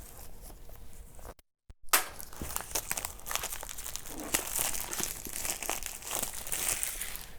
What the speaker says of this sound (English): So why don't we get that shrink wrap out of the way, the handy dandy pocket knife.